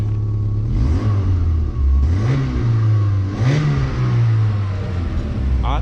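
Volkswagen MK3 GTI engine with a newly fitted muffler, blipped in three or four quick throttle taps that rise and fall over a steady idle, close and fairly loud.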